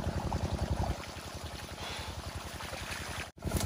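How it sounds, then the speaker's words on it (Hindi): Water gushes steadily from a burst pipe in a field, a continuous loud rushing pour with a rhythmic pulsing undertone, close up, with no talk. "तो पानी बाहर आ रहा है"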